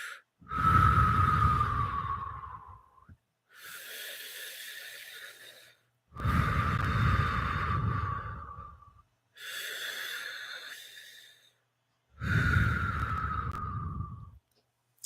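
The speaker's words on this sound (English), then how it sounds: "Please take 3 deep breaths." Five slow, deep breaths, each a long loud inhale-exhale cycle of about two to three seconds, separated by short pauses, close and alone with no talking.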